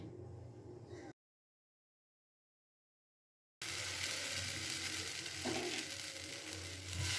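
Patishapta pitha frying in oil in a pan: a soft steady sizzle, a stretch of total silence, then a louder, continuous sizzle with faint crackles.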